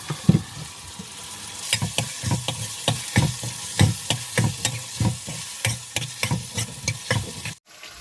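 Cabbage curry with salt being stirred in a pan aboard a sea fishing boat: a steady rhythm of scraping spoon strokes over a soft sizzle, close and fairly quiet, with no talking.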